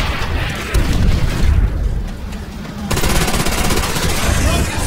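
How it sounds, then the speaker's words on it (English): Heavy battle audio from the World War II video game Call of Duty: World at War, where a Panzerschreck rocket is fired at a tank amid dense booming gunfire and explosions, loud and continuous with shouting voices mixed in. "Dimitri, take it down! Fire the Panzer"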